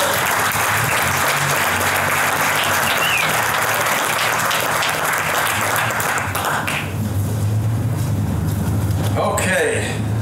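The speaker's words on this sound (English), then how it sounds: "Applaud for those of you that made this happen." An outdoor crowd at a veterans memorial rededication ceremony applauds steadily and loudly for about seven seconds before the clapping thins and fades, with traffic rumble and a few voices underneath.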